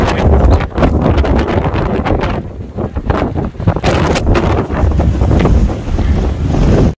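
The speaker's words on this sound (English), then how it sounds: "Beautiful strong wind over Danube River." Strong wind blows over the Danube River, heavy gusty buffeting roaring across the microphone, loud and continuous with brief dips in force.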